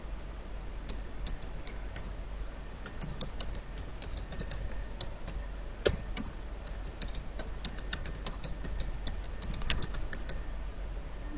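Fast, irregular clicks of typing on a computer keyboard, close and fairly quiet, coming in bursts with short gaps between them.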